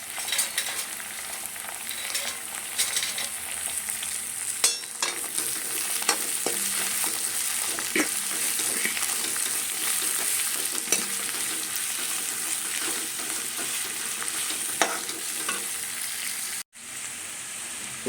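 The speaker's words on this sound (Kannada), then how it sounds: "ಇದಿಷ್ಟನ್ನು ಚೆನ್ನಾಗಿ ಒಗ್ಗರಣೆಲಿ ಬಾಡಿಸ್ಕೊಳ್ಳೋಣ" Sliced carrot and beans sizzle in a tempering of hot oil while a spoon stirs and scrapes the pan, a steady close crackle with occasional metallic knocks and a brief cut near the end.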